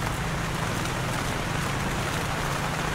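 Steady rain pouring down on a campsite in Tanay, a dense continuous hiss of drops striking surfaces nearby, even in loudness with no voices.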